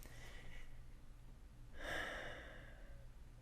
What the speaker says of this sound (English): Take a couple breaths with me,